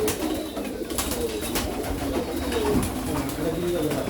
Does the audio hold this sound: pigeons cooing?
yes